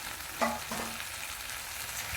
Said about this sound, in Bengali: এবার দিয়ে দেবো মাংসের চর্বিটা, কেননা প্রথমবার দিলে ওটা গলে যায়।